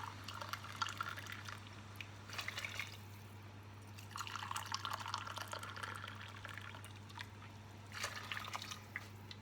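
Boiling water poured from mugs into a pot of red pepper and tomato soup, three soft splashing bursts of liquid separated by pauses, faint over a steady low hum.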